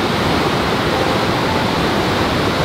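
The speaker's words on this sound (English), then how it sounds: "That's usually just a little creek." A usually small creek, swollen and rushing, roars as a steady, loud, broadband wash of flowing water with no talking.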